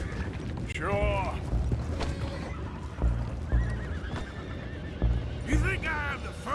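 Horses in the video game Red Dead Redemption 2 neigh and whinny repeatedly, with several shrill whinnies standing out over hoof clip-clops, creaking wood and mechanical clanks, while voices talk intermittently.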